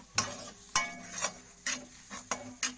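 Egg rice masala with curry leaves and coriander leaves is stirred in a pan, with about six distinct spatula scrapes and knocks at irregular intervals over a faint sizzle, close and moderately quiet, with no speech.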